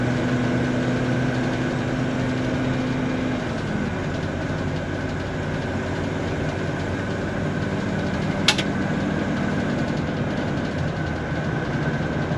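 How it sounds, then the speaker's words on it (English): A 2020 Thor Quantum KW29 Class C motorhome climbing a hill, its engine droning steadily with a low rumble and a shifting hum inside the cab, plus one brief tick partway through. "Transmission shifting good, even going up this hill."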